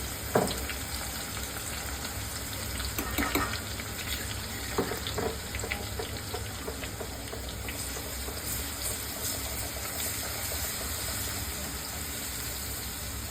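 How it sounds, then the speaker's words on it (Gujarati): Garlic frying in oil in a pan, a steady low sizzle and crackle that runs the whole time with a few soft clinks near the start, heard close and fairly quiet with no talking. "લસણને થોડું લાલ થવા દેવાનું છે."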